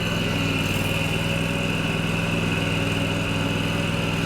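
A 2022 John Deere Stand-On 652R zero-turn mower drives up and over a grassy hill, its engine giving a steady, loud, even drone close by with no speech.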